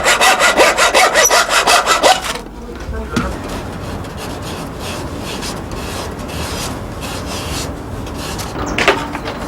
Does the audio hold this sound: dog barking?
no